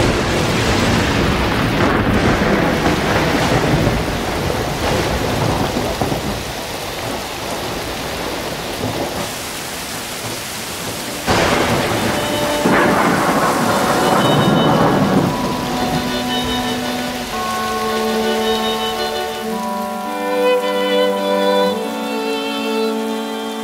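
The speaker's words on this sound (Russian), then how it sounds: "на небе собрались тучи, накрыли собой сад и пролились животворным дождем" Cartoon thunderstorm over a garden, heavy continuous rain with booming thunder crashes and rumbles, a loud strike near eleven seconds, then the storm gives way to gentle musical tones toward the end.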